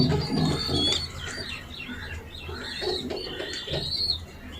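Racing pigeons in a loft coo and chirp close by, overlapping soft throaty calls and higher twitters scattered irregularly across the moment with no talking.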